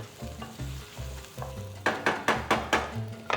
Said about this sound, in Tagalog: So, igisa-gisa natin yan to bring out all the flavors of your bawang sibuyas